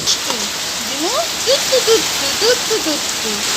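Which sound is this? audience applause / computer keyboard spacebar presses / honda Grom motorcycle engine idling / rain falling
rain falling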